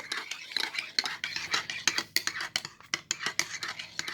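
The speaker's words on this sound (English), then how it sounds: "I've been stirring this for a hot minute." A thick mixture is stirred in a container with repeated scraping strokes in an irregular rhythm, close and fairly quiet, with faint whispery speech underneath.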